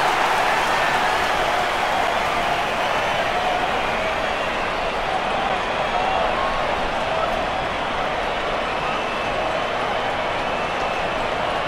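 A virtual stadium crowd in the AFL Evo football video game cheers after a Geelong goal against Adelaide, a sustained, even roar of applause and noise lasting throughout.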